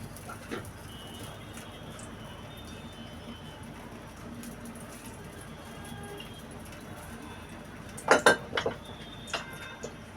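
A metal wok is handled on the stove while bitter gourd fries, giving a brief cluster of clanks and scrapes near the end over a steady low kitchen hum.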